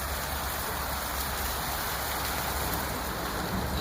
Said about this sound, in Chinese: 忽然之间下大雨了。